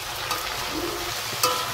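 Garlic, onion and dry chillies with black cumin frying in oil for a dal tempering, giving a steady soft sizzle with a couple of brief stirring clinks, close and continuous, no talk.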